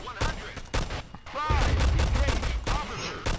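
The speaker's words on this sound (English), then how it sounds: "I'm gonna shoot him." Rapid bursts of gunfire from a first-person video game shooter crack out in a dense cluster, loud and close, with brief pauses between volleys.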